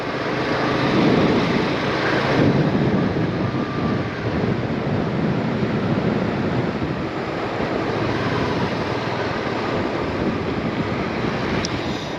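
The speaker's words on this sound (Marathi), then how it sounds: "समुद्र बघा" Sea waves wash along the Konkan coast near Ganpatipule, a continuous, loud surf roar heavily mixed with wind rumble across the microphone, steady throughout with no voices.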